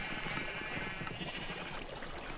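Sheep bleat in Minecraft inside a crowded pen packed with many animals, a few overlapping bleats rising over a steady background hum, moderately loud.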